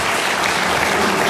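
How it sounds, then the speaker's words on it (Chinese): An audience at a signing ceremony in Macau claps in a dense, loud burst of applause that fills the short moment evenly, with no talk over it. "大家掌声好看。"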